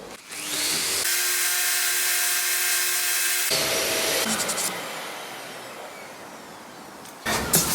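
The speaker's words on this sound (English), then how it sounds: "So I'm going to use this attachment for this sander." An orbital sander fitted with a corner attachment runs loudly on an oak utility-furniture hall table, whining steadily for a few seconds, then shifting to a rougher grinding tone before dropping off and briefly restarting.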